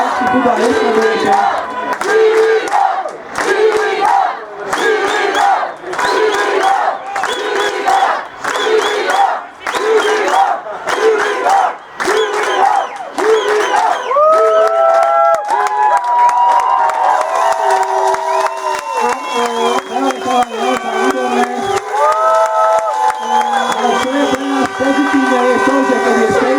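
A crowd at an American football semifinal cheers and shouts loudly in rhythmic bursts that swell into sustained roaring and chanting, with a voice audible over the noise.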